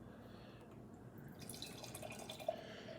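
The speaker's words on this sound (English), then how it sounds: "So let's go ahead and pour it up." Harpoon Interrobang barrel-aged stout is poured from a can into a glass, making a faint, soft liquid trickle and gurgle with one small splashy drip near the end.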